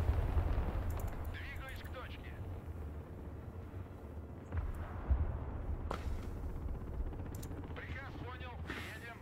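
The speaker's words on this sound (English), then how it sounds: "Some sort of artillery there." Artillery and heavy gunfire rumble through a modern battle in Broken Arrow, with low booms and sharp cracks. The loudest blasts come at the start and around the middle, and a voice talks over the din.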